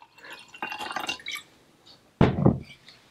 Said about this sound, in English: Pour us a nice glass of this cool,